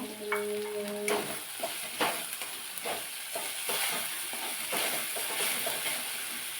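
Palak vadi ingredients sizzle in hot oil as they are sautéed and stirred in a pan, with a soft, steady frying hiss and occasional scraping strokes, close and fairly quiet.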